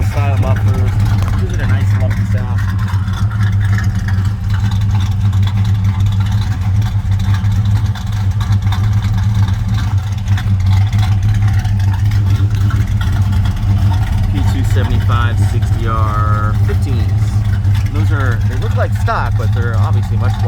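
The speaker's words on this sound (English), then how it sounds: "Got some turbo style mufflers. Give it a nice lumpy sound." A 1966 Impala's original 327 small block with hump heads and turbo style mufflers runs steadily with a deep, lumpy idle, loud and close throughout, while someone talks over it.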